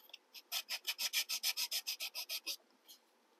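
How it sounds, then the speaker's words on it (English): Rapid, even back-and-forth rasping strokes of sandpaper hand-sanding a wooden model building, about sixteen in a row, close up, then a single final scrape. "So I'm going to be sanding for a little while."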